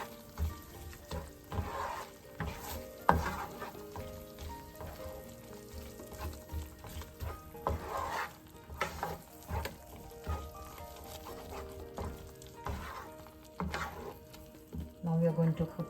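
Fenugreek leaves and peas stirred in a pan over a slow flame, a soft sizzle under repeated scraping and stirring strokes from a spoon.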